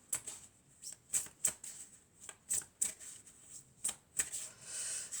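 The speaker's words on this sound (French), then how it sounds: "Alors, donc je vais tirer 12 cartes." Tarot-style cards are shuffled and drawn in a run of sharp, crisp riffles and snaps, close and fairly quiet, with uneven gaps between bursts and no talk.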